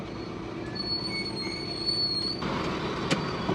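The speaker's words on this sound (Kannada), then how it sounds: "ಇವಾಗ ಹೋಯ್ತು ಟ್ರೈನು" A train rolling through a railway level crossing, a continuous close rumble with wheel hiss and a brief high squeal, steady and loud with a couple of metallic knocks near the end.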